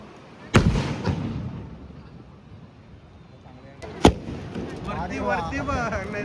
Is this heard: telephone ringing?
no